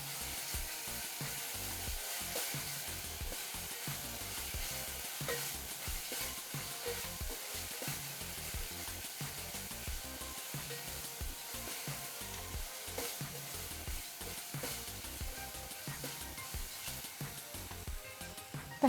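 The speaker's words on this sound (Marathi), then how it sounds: "काही मिनिटभर आपल्याला भाजायचं आहे." Tomato masala fries in a pan while it is stirred, giving a soft, steady sizzle broken by repeated scraping strokes, faint and close, with no voices.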